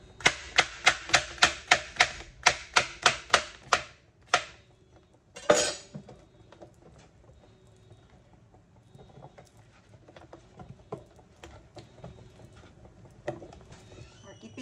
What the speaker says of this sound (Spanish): Picando la última verdura, vegetales.